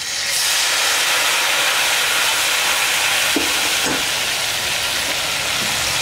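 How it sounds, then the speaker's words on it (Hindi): Mutton stock poured into hot frying masala in a pan, a loud continuous hissing sizzle with a few soft splashes and clinks, close by and with no talk. "ये स्टॉक थोड़ा सा डाल देती हूँ मैं।"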